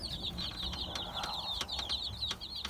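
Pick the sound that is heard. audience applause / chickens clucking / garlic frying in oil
chickens clucking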